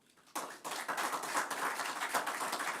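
Audience at a thirtieth-anniversary celebration of the Campo San Martino civil protection group applauding its coordinator, a burst of many hands clapping that starts suddenly after a quiet moment and continues steadily, fairly distant in a large space.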